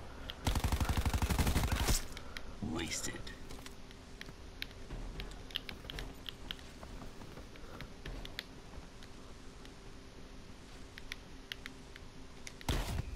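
Gunfire in a shooter video game opens with a loud rapid burst, then scattered sharp shots and clicks continue more faintly, with another burst at the end.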